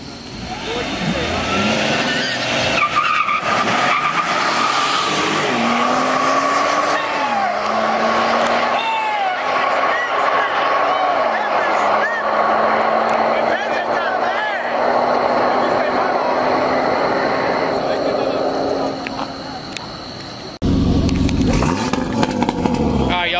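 A Ford Fusion and an Infiniti drag racing: a loud engine revs hard and pulls through several gear shifts, its pitch climbing and dropping over roughly fifteen seconds amid constant crowd noise and background voices.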